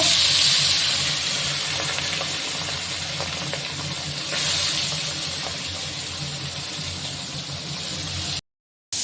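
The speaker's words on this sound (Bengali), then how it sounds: "এখন তেল গরম হয়ে গেছে, আমি মাছগুলো ভেজে নেব।" Fish frying in hot oil in a kadai, a loud continuous hissing sizzle that holds steady for several seconds before cutting off briefly near the end.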